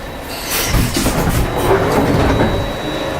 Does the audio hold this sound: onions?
no